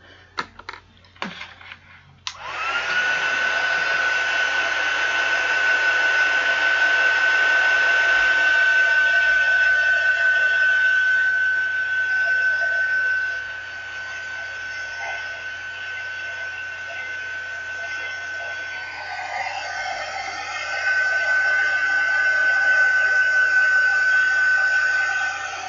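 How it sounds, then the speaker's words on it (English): A heat tool blasts air onto a handmade card with a loud, steady whirring roar that starts after a few clicks, dips briefly in level midway, then picks back up. "I'm just going to blast it quickly with my heat tool"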